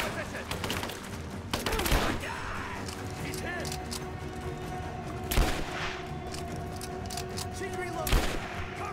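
Dense gunfire rattles almost nonstop in a Rise of the Tomb Raider combat scene, with sharp louder bursts standing out and voices speaking over the shooting.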